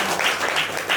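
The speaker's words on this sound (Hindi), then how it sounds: "एक बार अपने मालिक के लिए तालियां बजा सकते हो?" An audience applauding for the boss at a seminar, a dense, continuous wash of clapping through the whole short moment.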